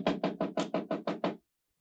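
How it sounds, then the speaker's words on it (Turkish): Knocking on a door in a 1967 Turkish adventure film, a rapid series of eight loud, evenly spaced wooden knocks, then silence. "Kapı vuruluyor."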